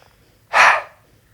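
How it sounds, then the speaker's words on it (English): A single forceful exhale through the nose during the yoga lion pose, a short breathy rush lasting about half a second, close and alone in a quiet room. "The breathing happens through the nose and not through the mouth."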